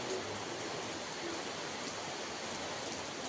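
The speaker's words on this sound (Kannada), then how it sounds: "ಇಲ್ಲಿ ನೋಡಿ ಮಳೆ ಆಗಲೇ ಸ್ಟಾರ್ಟ್ ಆಗಿಬಿಟ್ಟಿದೆ." Rain falls steadily outdoors in the evening, a soft continuous wash of broadband hiss with no distinct drops or talking, fairly faint and even throughout.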